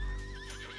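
A horse in the video game Red Dead Redemption 2 gives a short, wavering whinny over a low rumble, loud and near, lasting under a second.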